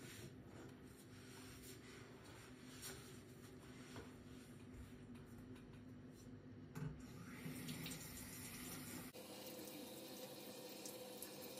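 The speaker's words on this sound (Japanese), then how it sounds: "あとは卵を洗う。" Tap water runs steadily into a sink while eggs are washed for Easter egg decorating, a continuous close splashing stream that grows fuller partway through, with no talk over it.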